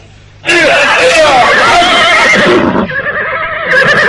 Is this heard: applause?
no